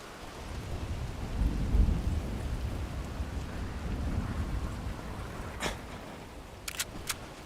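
Thunder in the video game Wolfenstein: The New Order, realistic European-style: a deep, rolling rumble over steady rain, swelling near the start, followed later by a few sharp, crackling snaps.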